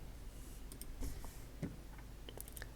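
A computer mouse clicks a few scattered times, faint, sharp and sparse, against quiet background hiss.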